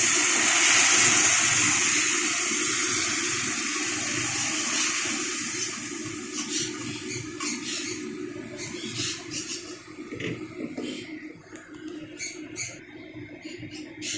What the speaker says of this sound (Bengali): এখন আমি দিয়ে দিচ্ছি ডাল।